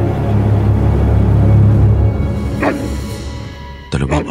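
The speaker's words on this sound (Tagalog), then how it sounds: "Dalawang aso umiikot dito, Rosaline." In an audio-drama scene, two agitated dogs give a couple of short, sharp barks and yelps over a low rumbling background, with the second burst near the end louder than the first.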